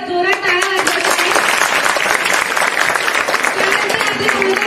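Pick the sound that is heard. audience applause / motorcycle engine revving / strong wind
audience applause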